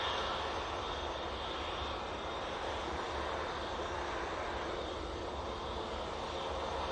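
An easyJet jet airliner taking off from Manchester Airport for the Isle of Man, a constant, even engine roar that holds at the same level from start to finish, with no talking.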